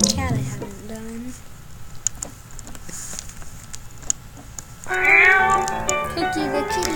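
A cat meows in a video game as it is petted, a bright meow rising near the end, with a player talking over game sounds and scattered clicks earlier.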